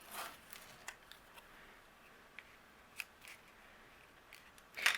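Scissors make faint, sparse snips while trimming patterned paper, such as an overhanging giraffe-tail piece, on a handmade card, with a slightly louder cut at the end and a quiet hiss between snips.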